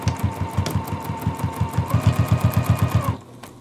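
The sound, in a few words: sewing machine backstitching a quilted pillow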